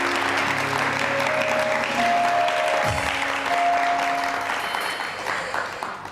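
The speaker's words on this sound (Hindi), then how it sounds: "ज़ोरदार तालियां बजाइए" A studio audience on an entertainment show bursts into loud, sustained applause, heard as a thick continuous clatter of many hands with faint tonal sounds underneath, easing slightly toward the end.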